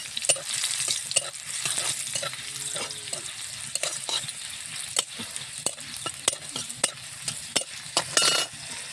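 Garlic cloves and four dried red chilies fry in hot oil with a steady, close sizzle, broken by repeated sharp clinks and scrapes of a stirring spoon against the pan; no one speaks.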